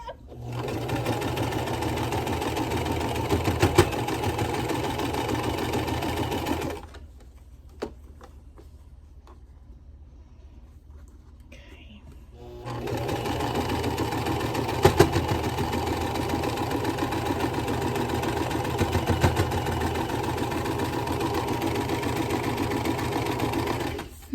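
A domestic sewing machine stitching a gnome accent quilt block runs steadily with a clanking needle, stopping for several seconds of near quiet with small handling clicks, then starting up again and running loud and close.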